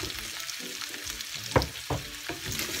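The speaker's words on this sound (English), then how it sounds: "I'm going to add now our butternut squash or pumpkin." Butternut squash pieces going into a pan of already-cooked pork, sizzling steadily with a sharp clatter or two as the squash lands and is stirred, moderately close and without talk.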